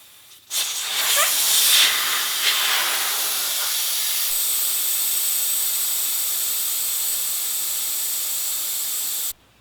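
Air rushes out of a vehicle tire through the open valve stem after the valve core is removed. A loud, steady hiss starts abruptly, stays strong and even for several seconds, then cuts off.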